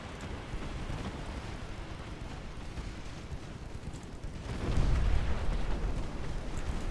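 A warship launches torpedoes in a naval battle game: a steady low rumble of combat swells into a heavy, booming surge about two-thirds through, then settles back to a rolling background roar.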